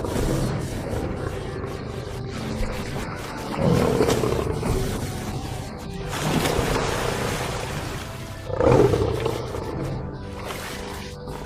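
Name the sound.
lion roaring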